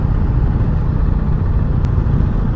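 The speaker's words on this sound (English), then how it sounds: "This has a little bit more rumble to it. That exhaust note, it's pretty good." An Indian Challenger motorcycle engine gives a steady, deep exhaust rumble, close up and loud, holding an even low drone throughout with no voices.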